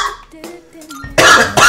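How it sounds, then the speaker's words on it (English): A person coughing, a couple of loud, harsh bursts close up near the end, following some quieter sounds. "I was perfectly fine and then I started coughing out of nowhere again."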